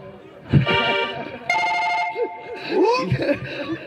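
A phone rings with a bright electronic ringtone melody for a few seconds, while people talk loudly over it.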